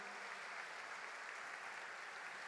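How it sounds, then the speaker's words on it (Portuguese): Church congregation applauding during an evening service, a dense, even patter of clapping that stays steady and fairly faint throughout. "Dê um aplauso ao Senhor por essa alegria nessa noite"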